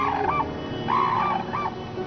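A crane in Japan gives three loud, honking, trumpet-like calls in quick succession, close and clear with no voices.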